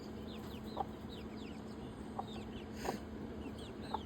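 Chickens cluck and call around a backyard coop, a few sharp brief calls standing out over a steady low hum, with faint bird chirps in the background.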